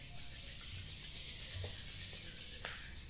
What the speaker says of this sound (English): And rub your palm together.